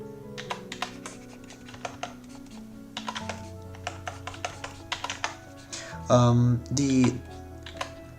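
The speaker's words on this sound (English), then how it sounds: "The keys you hear is just me switching between transparent and opaque brush." Computer keyboard key presses made while switching between transparent and opaque brushes in pixel-art work, a steady run of close, light clicks with a couple of louder bursts near the end, over background music.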